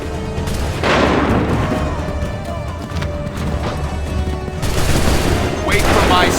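Musket volleys in Assassin's Creed 3, with battle noise throughout, booming bursts rising at about one second and again near the end amid dense crackling and clatter.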